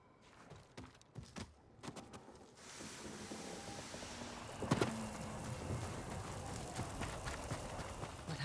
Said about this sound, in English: Let's get the horses.